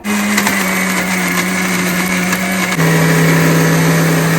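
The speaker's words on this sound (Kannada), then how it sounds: "ಸ್ವಲ್ಪ ಸಾಂಬಾರು ಪುಡಿ ಹಾಕಿ ಗ್ರೈಂಡ್ ಮಾಡ್ಕೊಳ್ಳೋಣ ಬನ್ನಿ" A mixer grinder grinding masala with turmeric and sambar powder, a loud steady motor whine that drops slightly in pitch partway through and keeps running throughout.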